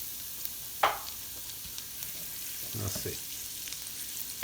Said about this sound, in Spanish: voy a agregar el ajo para que se empiece a freír